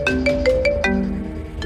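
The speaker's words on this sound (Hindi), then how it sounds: "तभी उसका फोन बज उठा।" A mobile phone ringtone plays alone, a short bright melodic ring of repeated tonal notes lasting under two seconds.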